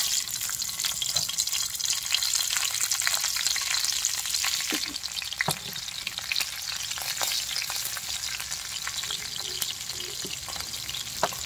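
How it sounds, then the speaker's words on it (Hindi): Cumin, salt and turmeric sizzle steadily as they roast in a pan outdoors in the wild, a continuous close frying hiss with a few clinks of stirring and no talk. "तो थोड़ी देर इसको भूजने देते हैं"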